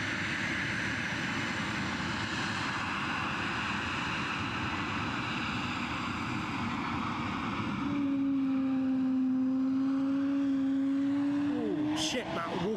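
Airplane taking off or landing at Edinburgh Airport: a steady, broad engine roar that holds throughout, joined midway by a rising and then steady whine, distant but strong.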